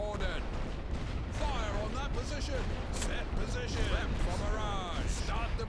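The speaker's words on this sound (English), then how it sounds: "Fire on that position. Set position. Prep for barrage." Artillery barrage in the World War I strategy game The Great War: Western Front, a dense run of booming shell blasts and rumbling detonations layered under continuous game voice lines and a person talking over it.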